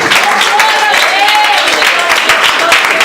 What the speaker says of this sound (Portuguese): Essas palmas para mim estão uma bênção